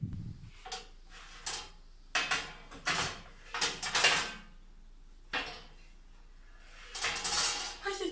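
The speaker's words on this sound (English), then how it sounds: "after 25 minutes, we're ready to take the cupcakes out of the oven" Clanks and rattles of a metal cupcake tray being handled at an oven, several separate close knocks and scrapes with short pauses between.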